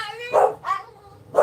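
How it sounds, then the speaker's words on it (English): Dogs barking indoors during a live jewelry sale broadcast, two sharp barks close together followed by a third, with a faint voice in the background. "Sorry for the dogs."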